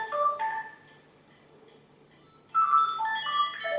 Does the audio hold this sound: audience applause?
no